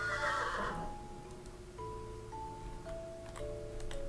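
A horse in Minecraft with the Hexxit modpack gives a loud whinny at the start, followed by quieter game tones and faint background sounds.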